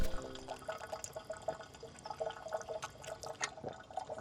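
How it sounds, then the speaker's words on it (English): A drinking water fountain built into the cabin of a 2027 Tesla Model Y L runs steadily, a soft trickle with light splashing and dripping, fairly close and heard alone. "Dude, I think every set needs a water fountain."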